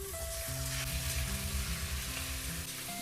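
Meat is added to oil with fried onions and garlic for restaurant-style kosha mangsho, giving a soft, steady sizzle and faint stirring under a quiet musical background.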